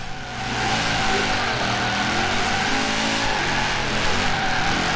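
An Audi RS4 drifts in the Forza Horizon 4 video game, its engine roaring continuously with wavering revs while the tires squeal and skid throughout.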